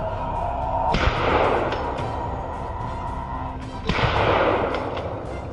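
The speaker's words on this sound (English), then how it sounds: "A series of gunshots rang out, taking down the lead boar" Two heavy, booming gunshots a few seconds apart on a farm, fired at charging wild boars, each followed by a long rumbling echo, over steady background noise.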